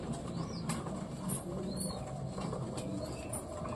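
A Lotan pigeon with soft wing flaps and faint bird sounds against a steady background hum, no talk.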